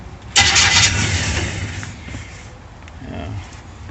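A 1937 Dodge Brothers engine cranks over on a newly fitted key switch, a loud abrupt whirring start that then settles into a rougher, fading mechanical run nearby.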